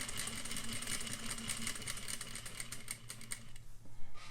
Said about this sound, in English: Lift the presser foot and pivot in the direction you need to sew